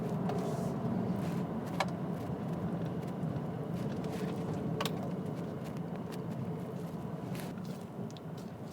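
A 306-horsepower 2012 BMW ActiveHybrid 5 driving a tight, twisty hill course, its steady engine and road rumble heard from inside the car at a constant moderate level, with a few faint clicks.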